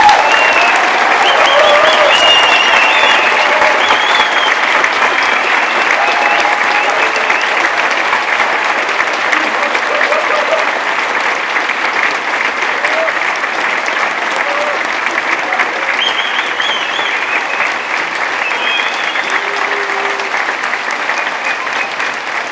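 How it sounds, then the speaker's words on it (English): Sustained applause from a large audience of graduates, staff and guests fills a resonant hall at an Open University degree ceremony in Birmingham, a dense steady clapping that carries on loudly throughout with no talk over it. "enormous round of applause."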